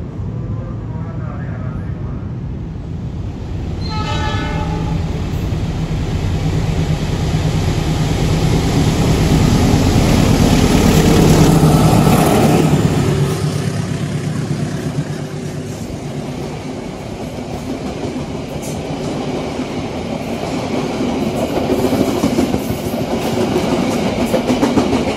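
The Malabar passenger train passes at Bojong station, heard from a nearby train: a loud, continuous rumble with rhythmic wheel clatter that swells to a peak and then eases, with a brief horn-like tone early on.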